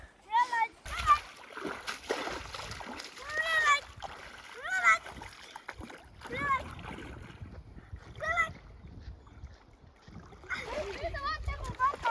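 Water splashes and sloshes around a swimmer taking a dip in a lake, in irregular bursts near and far, with voices talking over it.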